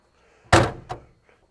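The cab door of a Unimog U411 convertible slams shut with one loud, close thud, followed by a lighter latch clack.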